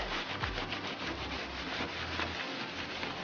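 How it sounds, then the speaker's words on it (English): Cloth wiping down the door jamb of a box-body Chevy Caprice LS Brougham before painting, a steady close rubbing and scrubbing that runs without a break under no talk. "Just want to wipe it down real good."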